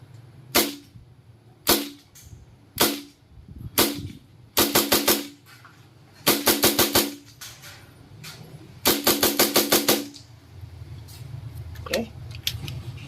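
An SSP5 airsoft pistol fires repeatedly at close range, first as single sharp snaps and then in rapid strings of three to six shots, with pauses and mechanical handling between volleys.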